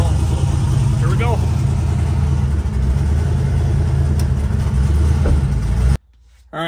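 An 1800-horsepower Chevrolet Camaro driving around the block in the rain, a loud, steady engine drone with rumbling low tones and shifts in pitch, with someone talking over it, then cutting out abruptly near the end.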